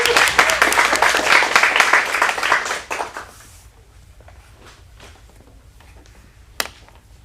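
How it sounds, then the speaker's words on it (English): Audience applause for a teen performer at an acting studio showcase in Phoenix: dense, steady clapping from a small crowd for about three seconds, then it dies away into quiet room tone with a few scattered claps and one sharp tap near the end. "Round of applause."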